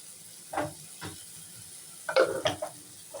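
Ginger garlic paste frying with softened tomatoes in a pan for pasta, giving a faint steady sizzle broken by a few scraping stirs, the clearest cluster near the end.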